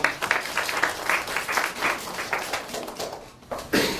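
An audience at a symposium on North Korean education applauds as a university student presenter is introduced, a crowd of hands clapping in close, uneven bursts that thin out toward the end before a voice begins.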